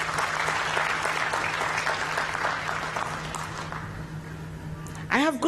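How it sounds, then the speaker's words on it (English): Audience applause at an NSSF annual members' meeting rises steadily and then thins, with a voice cutting in near the end over the fading clapping. "Let us first clap for the members who have come here."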